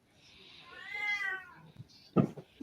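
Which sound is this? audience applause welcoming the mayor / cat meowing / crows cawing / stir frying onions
cat meowing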